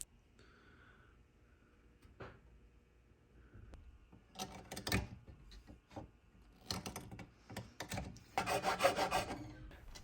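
Someone carves a small glued-on piece of African wood that forms the arrow rest on a handmade reflex bow. Dry rasping, scraping strokes come in irregular bursts close by, growing denser and louder after a quieter start.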